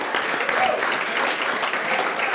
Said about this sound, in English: Now, Ja Fallon, you can give him a round of applause.